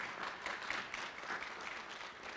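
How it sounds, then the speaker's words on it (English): Audience applause for the instructors of a digital transformation academy program, a steady even wash of clapping held at a fairly low level for the whole stretch with no voices over it. "please give them a round of applause"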